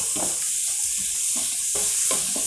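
Vegetables sautéing in a pan for a lunch-box dish, with a steady close sizzle and a few scraping stirs of a spoon against the pan, and no voices.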